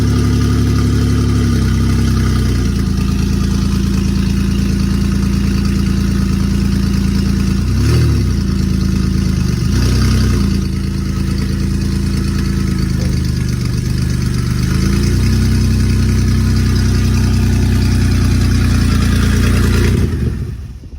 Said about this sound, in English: Sounds like the cat has been cut out on it, but definitely an exhaust issue.